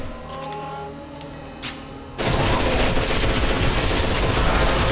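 Gunfire in the F.E.A.R. 2 shooter game, starting after a quieter stretch with a few faint thumps, then a sudden loud, continuous burst of rapid automatic shots that runs to the end.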